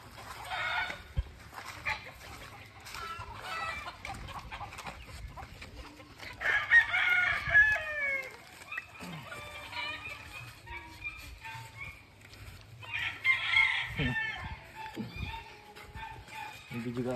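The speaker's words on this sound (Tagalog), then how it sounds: "Tingnan natin, yung mga nangitlog na manok natin." Hens clucking and a rooster crowing in a farm coop with egg-laying chickens, the crows rising twice out of steady nearby clucking while people talk throughout and a dog can be heard faintly.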